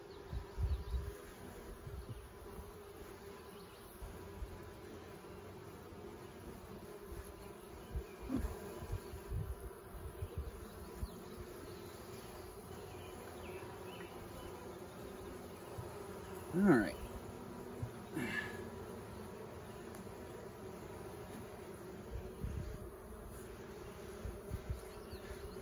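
Honeybees at an open hive with new comb, eggs and larvae, giving a steady low buzz that holds throughout, with a few brief louder swells from bees passing close.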